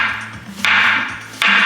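A knife cuts green plantains into rounds of about one inch, giving a few quick, close chopping knocks on a board with short pauses between them.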